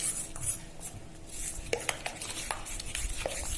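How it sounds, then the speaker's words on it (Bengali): Egg batter with flour being mixed in a bowl for egg pakoras, giving steady scraping and clinking of a utensil against the bowl, close and moderately loud, with a few sharper taps and no voices. "ভালো করে মিশিয়ে নিতে হবে এটা, যাতে একটাও দলা না থাকে, ময়দার কোনো দলা যাতে ডিমের মধ্যে না থাকে"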